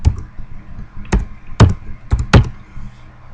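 Keystrokes on a computer keyboard at a desk, about five distinct taps with uneven gaps between them, close and fairly crisp, with no voice over them.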